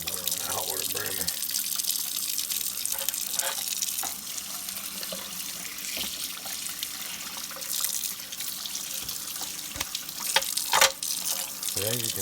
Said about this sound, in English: I'll turn that cold water on, that hot water burner.